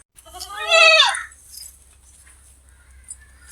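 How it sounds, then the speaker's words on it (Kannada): One of three sheep kept at home gives a single short bleat, clear and fairly close, and then near silence follows. "ನಿಮ್ಮ ಮನೆಯಲ್ಲಿ ನಾವು ಸಾಕಿರುವಂಥ ಮೂರು ಕುರಿ ಇವು"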